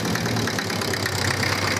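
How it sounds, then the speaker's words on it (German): An old Hanomag tractor diesel engine idles with a low, knocking chug, steady and close, running on its own without any talking. "der Motor springt an, der Apparat läuft"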